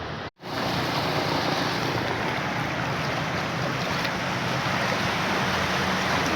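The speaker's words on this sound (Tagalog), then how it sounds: "Lakas ng alon, oh." Strong sea waves heard from a boat, a loud continuous roar of surging water and wind that fills the scene without letup after a brief dropout at the start.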